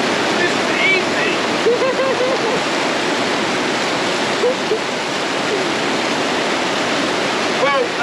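Rainwater pours off an awning through makeshift guttering into a bucket, a loud, steady rushing splash that runs unbroken from start to finish.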